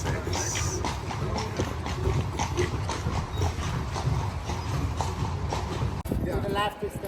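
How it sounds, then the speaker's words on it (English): Horse hooves clip-clop steadily on a Vienna street as a carriage rolls along, a close, even rhythm. People talk over it and city noise fills the background. "Some lovely horses."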